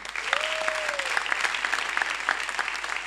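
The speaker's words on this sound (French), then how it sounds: "On applaudit pour Alain Maroukou." A crowd at a Gabonese New Year comedy show applauds a comedian with steady, continuous clapping that fills the space, and a brief whistle-like tone rises near the start.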